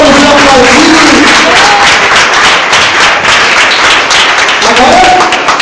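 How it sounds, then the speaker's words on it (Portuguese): A church congregation at a leadership consecration service claps along steadily, a loud continuous wash of applause with voices and a few raised calls mixed in throughout. "Vamos aplaudir"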